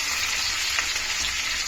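Curry leaves, onions and capsicum fry in hot oil for homestyle chicken fried rice, giving a steady, loud broadband sizzle that runs without a break and has a slight stirring texture.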